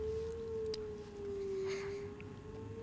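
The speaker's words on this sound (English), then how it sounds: "sirens in the background." A steady warning siren wails faintly in the distance during a mortar attack in Iraq, holding a sustained pitch throughout with low background rumble and no talking.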